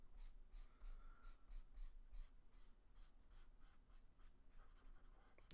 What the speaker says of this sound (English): You want to build texture with the marker by going around in that motion.